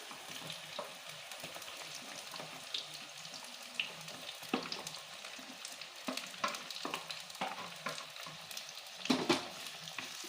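Ginger, garlic and onions frying in hot oil for a Chettinad country-chicken curry, a steady close sizzle broken by scattered stirring scrapes and clinks, with a few louder spatters near the end.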